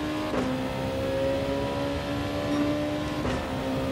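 A race car engine in Gran Turismo 7 at Suzuka holds a steady, close, high-pitched whine, with two brief whooshes as another car closes in behind.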